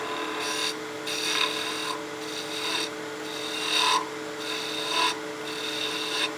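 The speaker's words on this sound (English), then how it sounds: "A little shearing planing cut, back to a V cut to get down in that corner." A skew chisel makes a shearing planing cut on a wood lathe while a spinning top is turned; a steady, close rasping hiss runs throughout over the lathe's continuous hum, rising and falling slightly, with no voices.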